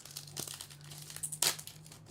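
A One Piece trading card event pack wrapper crinkles and tears open close by, with soft rustling before a louder, sharp rip near the end; nobody speaks.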